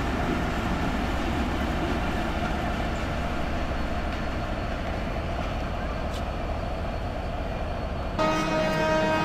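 Loud, steady rumble of the Nakshikatha passenger train from Khulna fills the scene, then a sharp horn blast cuts in near the end and holds as the clip closes.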